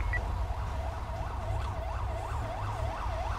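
Ambulance siren in a police roleplay video game, a clean wailing tone rising and falling in a steady repeated cycle over a low engine drone, fairly close and continuous.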